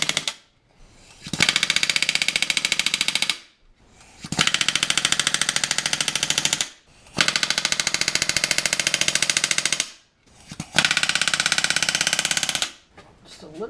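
A pneumatic rivet gun hammers rivets into the end ribs of an RV-7 aircraft left elevator, four loud sustained bursts of rapid rattling separated by short pauses.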